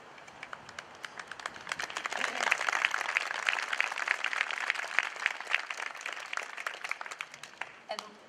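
Audience applause fills an 8th grade graduation ceremony in 2021: dense, steady clapping from a large crowd that swells after the first couple of seconds, holds, then tapers off near the end.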